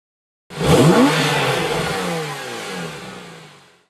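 A sports car engine with a 4.9-second zero-to-100 time and a 270 km/h top speed bursts into a loud, close rev, then holds a strong rising acceleration before fading away over a few seconds.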